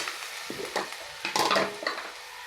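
Spices with salt, turmeric, chilli powder and a little tomato paste being sautéed in a pan, sizzling close by while a spatula scrapes and clatters against the metal in irregular strokes.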